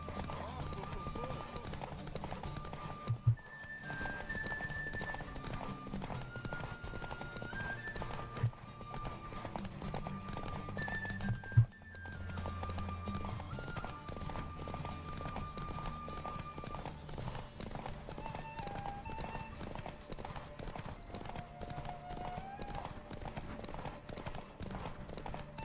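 Roach the horse gallops steadily through The Witcher 3, with continuous rhythmic hoofbeats under a bed of game music and a few sharp thumps along the way.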